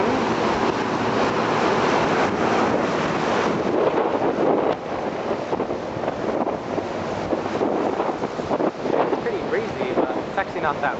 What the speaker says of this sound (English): Windy. It is the higher you go. We're up here on the 8th floor.